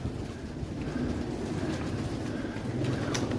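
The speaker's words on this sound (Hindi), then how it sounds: "ओहो कबूतर साहब नीचे आए हुए हैं।" Pigeons coo close by in a pigeon loft, soft repeated low coos over a continuous rumble of ambient outdoor noise, with no voices.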